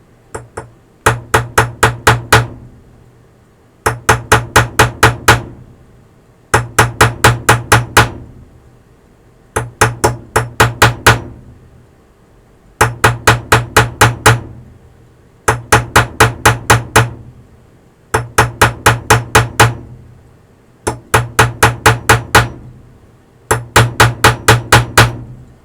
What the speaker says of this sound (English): it still needs some more tapping, because this rivet is not completely in yet